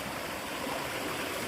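A stream flows beneath a wooden bridge on the trail to Devkund waterfalls near Pune, giving a soft, continuous rush of water heard alone at low volume.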